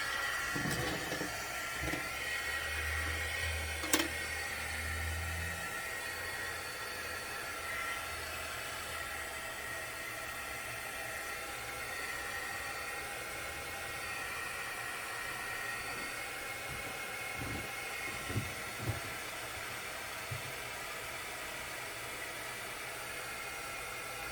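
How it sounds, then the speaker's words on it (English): A heat gun blows steadily to dry a wet-on-wet watercolor card, a constant loud hiss of air running unbroken throughout with a few faint handling knocks. "And take my heat gun."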